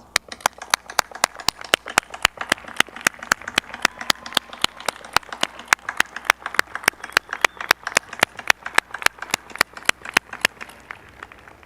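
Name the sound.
audience applause at law school hooding ceremony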